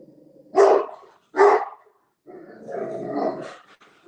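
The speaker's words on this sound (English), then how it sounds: "This dog's barking." A pet dog lets out two sharp, loud barks in quick succession, then a lower, drawn-out growling whine, heard up close with no talking.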